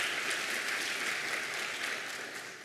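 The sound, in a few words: audience applause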